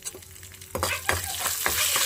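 Tempering seeds fry loudly in hot oil for a curry, a steady crackling sizzle broken by repeated scraping stirs of a spoon in the pan, with no voices.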